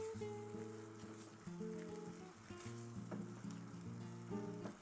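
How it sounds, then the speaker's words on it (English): Black beans are stirred into a sizzling tomato sauce with cherry tomatoes in a pan, a steady quiet frying hiss under soft scraping and stirring, with faint tonal background music throughout. "Mix those black beans in"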